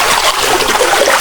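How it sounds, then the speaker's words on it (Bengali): A small stream of water in the Lasuban gorge near Sreemangal, Sylhet, rushes and trickles nearby in a continuous, fairly loud wash with no voices. "ছোট ছোট ঝিরি দ্বারায় শোনা যায় অবিরাম জলের শব্দ"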